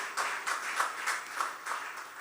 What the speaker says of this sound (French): le frère Émile Nicholson Néhémie, que je vous demande d'applaudir très fort ce matin.